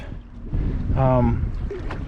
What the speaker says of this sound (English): I don't know when's the last time we kayaked in such windy, wavy weather before.